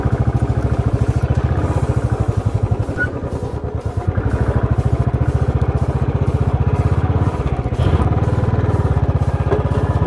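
Royal Enfield Bullet motorcycle riding through foggy conditions, its engine thumping in a loud, continuous, close rhythmic beat with steady wind and road noise throughout.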